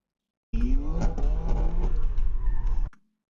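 A BMW car accelerating hard, engine roaring loud and close with rising revs and a gear change, cutting off abruptly after a few seconds.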